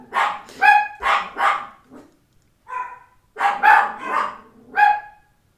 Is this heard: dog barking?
yes